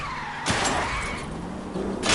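A car in an LA Noire chase spins out, its tires skidding in a loud, sustained screech over the roar of engines. The squeal rises sharply, holds, then flares again near the end.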